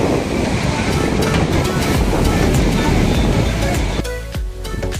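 Waves on a river wash continuously in a loud, rushing roar, heard from a boat out in the middle, easing slightly near the end where a few sharp knocks stand out.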